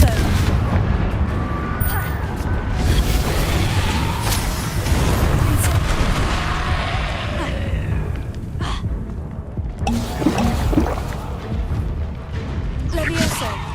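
Repeated Confringo blasting spell explosions in the Hogwarts Legacy video game boom and crackle through a dense, loud stretch of combat noise, with several sharp bursts throughout.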